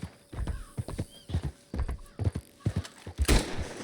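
Rhythmic hoofbeats of a galloping horse in Red Dead Redemption 2 thud close by, followed by a short neigh near the end.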